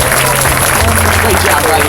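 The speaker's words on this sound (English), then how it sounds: "Big round of applause for Batman." Audience applause at a SeaWorld San Antonio animal show, a steady wash of clapping from a large crowd that fills the whole moment at even loudness, with an announcer's voice faintly mixed underneath.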